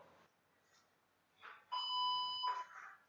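A workout interval timer gives a single steady electronic beep lasting under a second, faint and quiet, with soft rustling around it in a home exercise setting.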